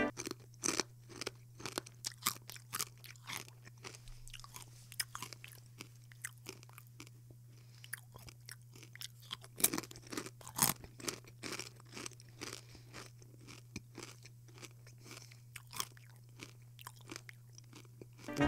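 Crunchy fried chicken skin snack, somewhat hard rather than light and crisp, chewed up close: a steady run of sharp crunching bites and chews over about eighteen seconds, with no talking.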